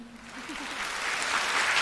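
Audience applause for a child singer at a Vietnamese kids' singing show event, a steady mass of clapping that swells louder toward the end, with a brief tonal voice-like sound at the start.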